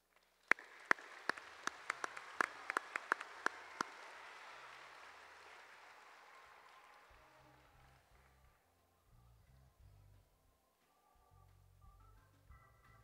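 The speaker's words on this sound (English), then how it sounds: "Let's have a round of applause once more for these outstanding animals and those who have presented them this evening" An evening audience at a parade of livestock show champions applauds, a burst of claps with sharp individual hand strikes at first, fading to a thin patter and then silence with faint low rumbles.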